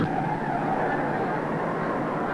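A race car rounds the fourth turn at the 1955 Indianapolis 500, a loud, continuous engine drone with tire noise that holds steady and fills the whole stretch.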